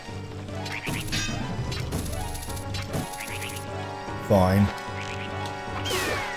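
A bird enemy in Zelda: Master Quest is struck with a sharp whack and lets out a loud, quacking squawk amid game music and effects, while a voice briefly speaks.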